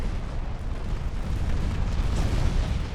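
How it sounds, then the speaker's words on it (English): Continuous low rumbling booms of naval gunfire from secondary and main guns during a battle in Ultimate Admiral Dreadnoughts, a dense, steady roar of overlapping blasts with no distinct individual shots. "Secondary guns, main guns"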